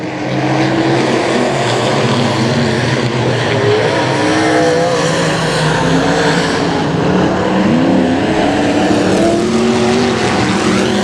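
Pro Mod race cars roar around the dirt oval at Boothill Speedway, a loud continuous engine drone with shifting revving pitches as several cars race together.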